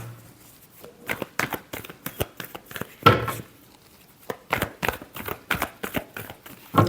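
Tarot cards are shuffled by hand in a string of quick, crisp riffling bursts, a dozen or so short flurries spaced by brief pauses, close and fairly loud with no talking.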